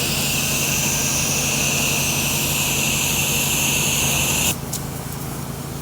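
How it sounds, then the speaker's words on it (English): Strong wind roars outdoors in a loud, continuous broadband rush during a cold pressure washing job, cutting to a quieter rumble near the end. "The wind is insane."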